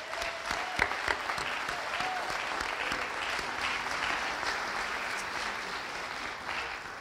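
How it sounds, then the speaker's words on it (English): An audience at an athletic hall of fame ceremony gives a sustained round of applause, even and continuous clapping from a crowd throughout. "Let's have another round of applause for them."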